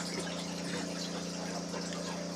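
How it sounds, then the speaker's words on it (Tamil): Water gushes and pours steadily into a cooking pot for sambar at close range, a continuous liquid rush with no talking. "தண்ணி ஊற்றிக்கலாம்."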